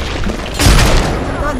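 In a first-person shooter game, a grenade blast lands with a loud, deep boom, a rumbling burst amid gunfire-like noise while players talk over it.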